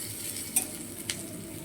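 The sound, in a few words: bitter gourd frying in a pan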